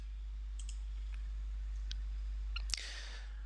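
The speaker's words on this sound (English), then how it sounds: "Click OK." A single sharp mouse click selects the OK button in software, one brief snap late in an otherwise quiet stretch over a steady low electrical hum.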